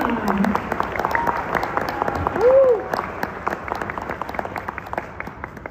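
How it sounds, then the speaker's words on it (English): A crowd at a sixth-grade promotion ceremony applauds a student named Fatima, a broad wash of clapping that holds steady for several seconds, with scattered individual claps standing out and a brief voice rising partway through. "can we give her a round of applause for Fatima?"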